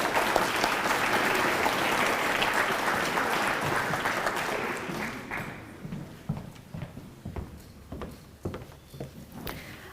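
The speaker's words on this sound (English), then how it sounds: "Please give them all a big round of applause." Audience applause for sponsors at a school pathways pledge ceremony, steady and full for about five seconds, then thinning into scattered individual claps as it dies away.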